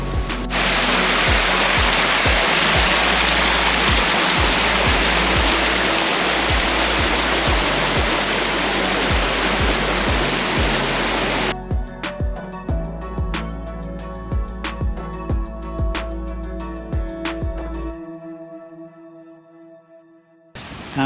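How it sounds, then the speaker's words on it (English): Loud, steady rushing of a mountain stream gushing down a fellside in the Lake District, close by and continuous, with the roar thinning out toward the end. "streams that are gushing down off the fell side or down the pass"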